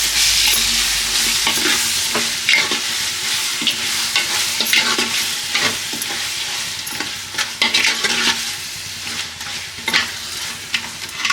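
Chicken pieces fry in hot oil with onions, a dense steady sizzle under repeated scraping and clattering strokes of a spoon stirring the pan, close and loud throughout with no talking.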